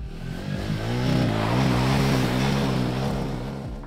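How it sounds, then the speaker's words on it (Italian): Royal Enfield Himalayan 450 motorcycle fitted with an Arrow aftermarket exhaust, its engine rising in a strong rev and holding a loud, steady, throaty drone, close and alone. "il sound della moto cambia con questa marmitta è più piacevole"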